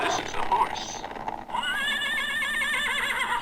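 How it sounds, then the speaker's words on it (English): A horse gives a loud, drawn-out neigh with a wavering whinny after people talk briefly at the start, the call carrying on steadily to the end. "This is the horse."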